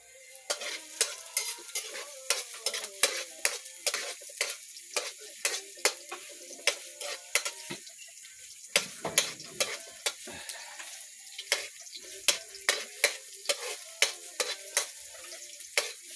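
Garlic and onion sauté in a pan, a quiet sizzle under a steady rhythm of sharp spatula taps and scrapes against the metal, repeating every half second or so with a brief pause midway.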